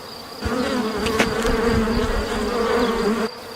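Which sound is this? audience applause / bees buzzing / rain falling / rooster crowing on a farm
bees buzzing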